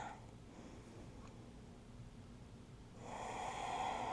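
A deep breath taken during a yoga flow, a soft steady airy exhale that grows into a fuller, louder breath near the end, alone in a quiet room.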